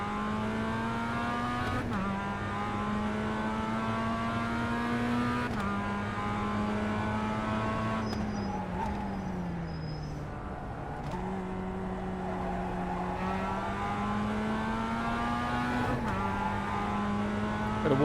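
A race car in a racing video game accelerates out of the pit lane, engine rising in repeated revving gear pulls with a steady, loud tone throughout and no talk over it.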